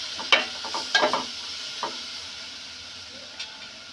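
Spoon stirring curry in a hot pan after turmeric goes in, for perugu charu (buttermilk curry), giving a few scraping clinks and a soft steady sizzle that fades toward the end.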